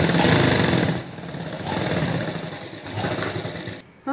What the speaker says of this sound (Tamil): இப்போ இந்த ஓரத்துலையே தச்சுட்டு வருவோம்